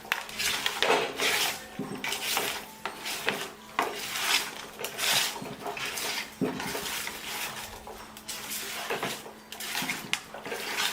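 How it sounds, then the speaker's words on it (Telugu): Salt, turmeric and other ingredients being stirred together in a pot for korameenu fish curry, giving steady rhythmic scraping and clinking of a utensil against the vessel, close and repeated, with no talk over it. "తర్వాత ఉప్పు, తర్వాత వీటిలన్నింటినీ మిక్స్ చేసుకోవాలి."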